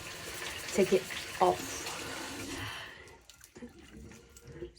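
Shower water running in a steady broadband wash during a night skincare routine, close and moderately loud, with a few brief louder splashes early on; it thins out near the end, and a voice speaks briefly over it.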